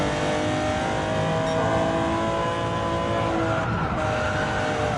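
A race car in Gran Turismo 7 slides and skids through a corner, a steady engine drone with tire noise running loud and continuous throughout.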